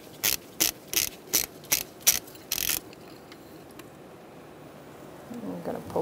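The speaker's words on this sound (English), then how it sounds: "you're going to use your spark plug socket, size 5/8" A ratchet turning a 5/8 spark plug socket to remove a spark plug from a 2010-2013 Kia Soul 2.0L four-cylinder engine gives seven sharp, evenly spaced clicking bursts, then falls to quiet background with faint movement near the end.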